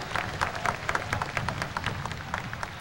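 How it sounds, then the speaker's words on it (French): Audience applause at a ceremony marking Haiti's bicentennial, a steady, dense patter of many hands clapping with faint crowd murmur, fairly distant and sustained throughout. "Nous mettons continuer à applaudir pour nous dire merci avec tout cœur"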